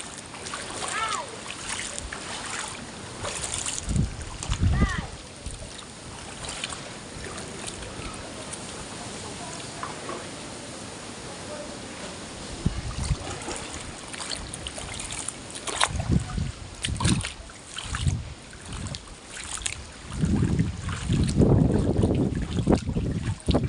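A flash flood surges through a flooded village street in Northern Samar, Philippines, a continuous rush of moving water with splashes and bursts of wind on the microphone, while people's voices come and go over it.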